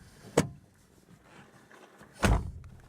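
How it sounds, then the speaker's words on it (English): A repaired van door on an Alpine camper gives two solid thunks about two seconds apart, each a close, sharp knock of the door mechanism with a short rumbling tail. "got the door sorted, so this now opens properly"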